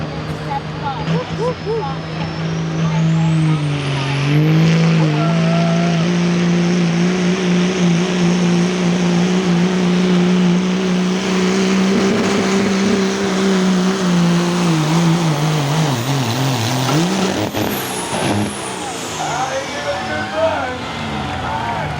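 A Duramax diesel 4x4 street truck drag racing down the strip at Berryville, its engine a loud, droning roar that climbs and holds through the run, with an announcer's voice heard over it.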